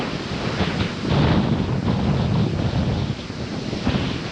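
Strong wind buffets the microphone on a Michigan shoreline, a loud continuous roar with surf mixed in and no voices.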